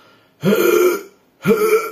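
A person imitates a harsh, barking croup cough, the stridulous cough of childhood laryngitis, two hoarse rasping bursts separated by a short silence.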